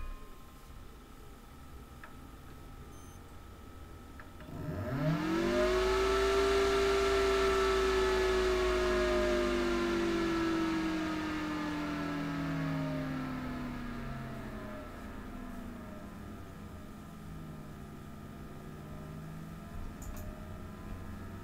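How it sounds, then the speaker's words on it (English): A desktop computer powers up after an SSD upgrade: a fan spins up with a rising whine, holds a loud steady whir, then eases to a quieter constant hum. "So let's start up the computer and see what happens."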